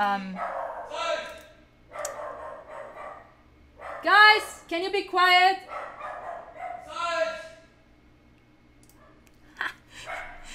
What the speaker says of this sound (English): Major dog freak out.